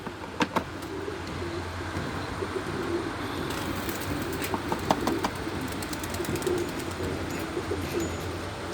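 Pigeons perched outdoors give soft, low coos, several birds calling intermittently at moderate distance, with occasional sharper chirps and faint traffic rumbling in the background.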